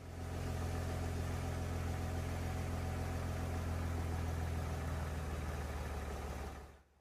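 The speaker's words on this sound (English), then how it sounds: "You can hear that the engine is running very quietly." A quiet, steady idle from an Audi 3.0-litre V6 TDI biturbo diesel engine: a smooth, continuous low hum with an even rumble, holding level throughout before dropping away at the very end.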